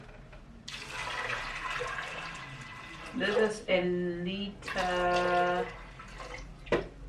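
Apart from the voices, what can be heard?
water being poured into a pressure cooker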